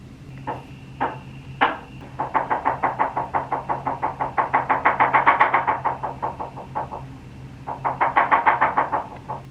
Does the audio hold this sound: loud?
yes